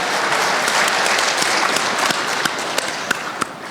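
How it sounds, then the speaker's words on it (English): Audience applause for the grandparents in a conference room, a dense steady wash of many hands clapping throughout, with a few sharper claps standing out near the end. "Can we clap for all the grandparents in this room?"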